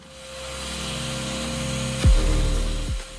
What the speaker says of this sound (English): I first cut down the timber to length.